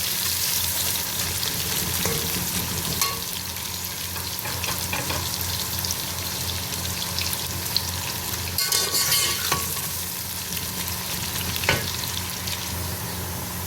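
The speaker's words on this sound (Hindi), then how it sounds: "ऑयल हमारा गर्म हो गया, अब हम डालते हैं प्याज।" Sliced onions frying in hot oil for chicken biryani, a steady close sizzle and crackle running throughout with occasional stirring clatters, no voices.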